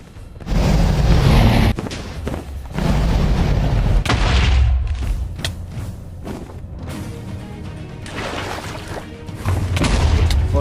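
Repeated booming blasts as end crystals explode in the End of a Minecraft hardcore game, several loud thumping bursts in a row with rumbling gaps between them, no voices.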